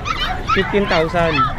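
Small six-month-old puppies at an animal market yip and bark in short high bursts close by, overlapping with people talking.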